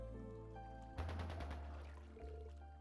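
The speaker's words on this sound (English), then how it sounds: "Is that gunfire?" A burst of gunfire in the video game Trails into Reverie, a rapid rattling volley heard some way off, set against a steady background music drone.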